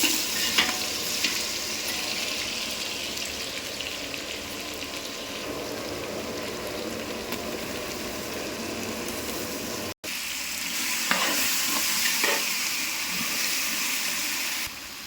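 Potato and carrot sizzle in a hot frying pan as they are stirred, a steady close crackle and hiss with occasional scraping clatters from the spoon, heard without talk.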